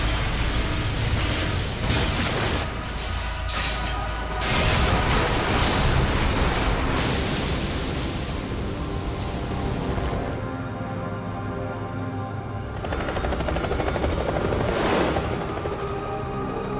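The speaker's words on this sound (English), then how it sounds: "And now Arsenal Gear is preparing for takeoff, and the big shell is just falling apart." Arsenal Gear in Metal Gear Solid 2 preparing for takeoff as its huge shell breaks apart, a loud, sustained roaring rumble with wind-like rushes, grinding mechanical layers and a high metallic whine partway through.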